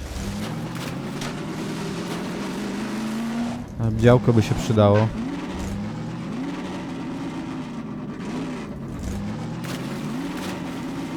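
A car engine in Half-Life 2: Episode Two drones steadily, its pitch rising and falling as the vehicle drives, with a sharper burst of revving midway. Someone talks over it throughout.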